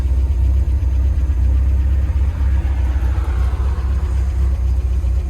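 A 1972 MGB Roadster in excellent condition idling at about 900 RPM after running for fifteen minutes: a steady, close, low throbbing rumble with an even tick-over pulse and no talk.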